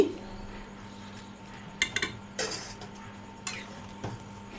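Metal spoon stirring spiced vegetables with ghee in a cooking pot, a few sharp clinks and scrapes against the pot over a quiet background, close and brief.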